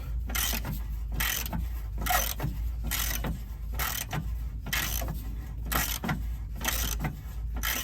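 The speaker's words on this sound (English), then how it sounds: "I'm going to go ahead and take these 2 bolts off" Ratchet working on front strut bolts of a 2013 Dodge Journey 3.6 SXT, a steady run of repeated clicking, rasping strokes in close succession, near and fairly loud over a constant low hum.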